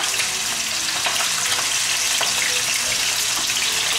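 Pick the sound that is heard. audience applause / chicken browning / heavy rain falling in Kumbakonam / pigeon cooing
chicken browning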